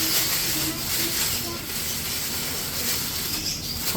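Cheesy chicken and tofu balls fry in hot oil with a steady, loud broadband hiss and crackle that holds unbroken throughout, with no talk over it.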